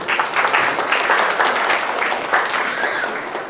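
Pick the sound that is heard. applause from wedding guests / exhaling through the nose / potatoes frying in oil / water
applause from wedding guests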